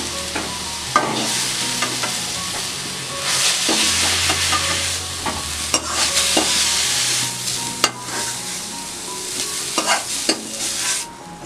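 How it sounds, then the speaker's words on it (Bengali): Radish pieces fry in hot oil in a pan with a steady crackling sizzle, broken up by sharp clicks and scrapes as a utensil stirs them, close and fairly loud throughout. "মূলোগুলো আমি সাঁতলিয়ে নিয়েছি"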